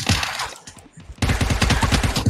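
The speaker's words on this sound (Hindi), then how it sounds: "बीएमसी भाई आपके पास से मेरे को किसी ने मारे शॉट दो तीन" Rapid gunfire bursts from an M416, Mini14 or MK14 in a mobile battle-royale shooter game, loud and close, with a short pause before a dense sustained volley.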